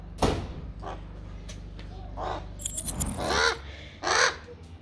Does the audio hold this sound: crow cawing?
yes